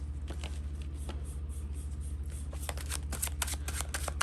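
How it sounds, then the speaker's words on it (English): A deck of tarot cards being shuffled by hand, with quick riffling flicks and soft patter close up over a steady low hum, growing busier and more rapid toward the end. "I don't have to see me struggle shuffle these"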